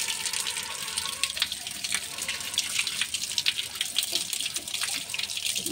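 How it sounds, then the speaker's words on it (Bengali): Spinach leaves rinsed by hand under running water, a steady tap-like splashing and trickling with small drips and bursts throughout, fairly close and moderately loud. "এই দেখো, আমি পালং পাতাগুলোকে ভালো করে ওয়াটারে আমি ধুয়ে নিচ্ছি।"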